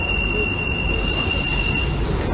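Continuous train rumble with steady rail noise and a thin sustained high squeal, loud and close throughout, no talking.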